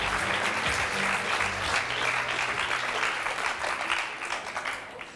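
Loud applause from a crowd, dense steady clapping that carries on and then begins to thin and fade toward the end.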